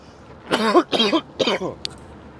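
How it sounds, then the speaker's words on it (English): A man coughs three times in quick succession, close and fairly loud, then there is a brief faint click. "And there's the cough, ladies and gentlemen."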